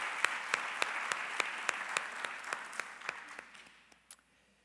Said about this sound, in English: an applause is needed